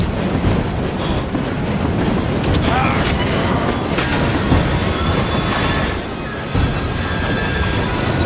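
A steam-era train in Assassin's Creed Syndicate rumbles along its tracks with a steady heavy rolling roar. Wheel squeals and metallic clatter rise at intervals, and the noise dips briefly near the end.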